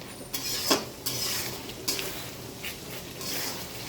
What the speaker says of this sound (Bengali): এটাকে ভালো করে আমি কষে নিচ্ছি